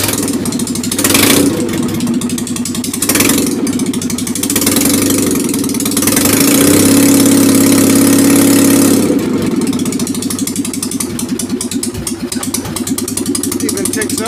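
A rebuilt Citroën 2CV engine runs loudly nearby with a rough, steady idle in neutral, briefly revving up in the middle before settling back to a ticking rumble.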